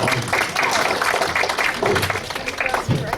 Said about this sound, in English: give yourselves a round of applause for such a great